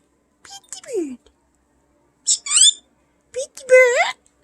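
A pet bird squawks and chatters in short bursts, mimicking speech with whistly, voice-like rising phrases across two clusters separated by a pause.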